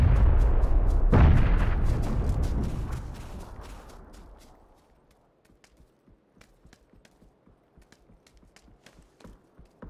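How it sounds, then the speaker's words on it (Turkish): A heavy blast and rumbling explosion from a grenade in a shooter video game, loud at first and decaying over several seconds into quiet scattered clicks and small impacts. "Bak o bomba böyle atılır."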